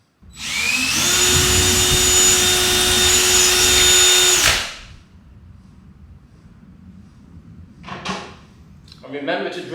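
A power drill whines steadily at high speed for about four seconds, then stops; a few short clicks and knocks follow.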